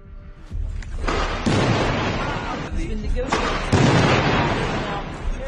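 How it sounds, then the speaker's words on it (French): Stun grenades blasting against iron balcony shutters and a kitchen window during a night police assault on a flat, two heavy booming bursts with long crackling decay, loud and close. "Les premières grenades en fait qui vont être lancées le sont sur les volets du balcon et sur la fenêtre de la cuisine."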